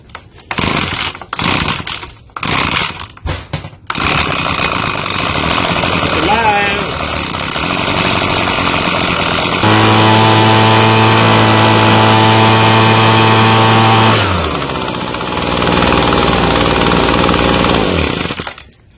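An Echo PB-250LN leaf blower's two-stroke engine is pull-started after a primer bulb and pull-string repair, sputtering through a few short bursts, then catching and running loudly and steadily before dropping back toward idle.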